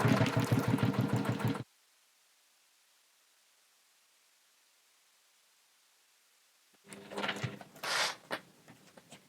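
A sewing machine stitching a seam with a reverse stitch to reinforce an opening: a loud, rapid rhythmic whirr for about a second and a half, then silence, then a second burst of stitching near the end.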